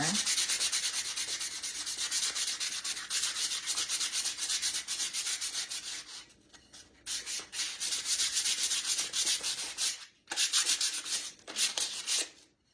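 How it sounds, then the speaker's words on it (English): Vigorous hand sanding of a decorative plate with rapid, rhythmic scratchy strokes, close and steady, broken by a couple of brief pauses before resuming. "I am not gentle sanding."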